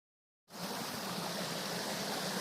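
River on the Appalachian Trail in Maine's wilderness, a steady, loud rushing of flowing water that cuts in abruptly after a short silence and continues unbroken.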